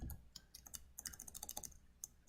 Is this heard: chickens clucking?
no